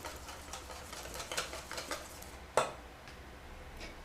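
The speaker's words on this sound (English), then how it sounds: "Don't stop whisking, that's really important." A whisk scrapes and clinks steadily against a bowl while vegetable oil is beaten into a thickening emulsion, producing quiet rhythmic stirring strokes with one sharper metallic tap.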